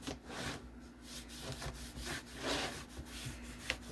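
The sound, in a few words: rubbing excess dye off a leather gun belt with a dry rag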